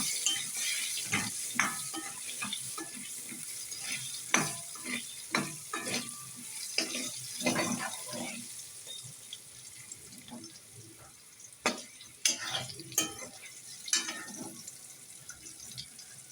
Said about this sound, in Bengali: আমি অল্প একটু নুন আর অল্প একটু হলুদ দিয়ে আলুগুলোকে ভালো করে লাল লাল করে ভেজে তুলে নেব।